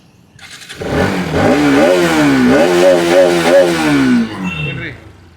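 A Bajaj Pulsar motorcycle engine starts and revs loudly up and down, the pitch rising and falling in several surges before settling, close by with no clear speech over it.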